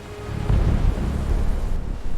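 A wild storm at sea, with a steady roar of wind and rumbling low thunder-like surges, heavy and continuous throughout with no voices.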